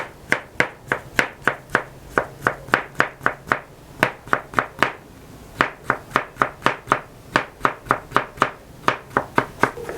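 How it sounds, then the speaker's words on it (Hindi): Tomatoes chopped rapidly with a knife on a board for street-food baingan baghara, a fast run of sharp, evenly spaced close knocks with one short pause midway. "तो टमाटरों को भी इस तरीके से जल्दी जल्दी काट लेते हैं जी।"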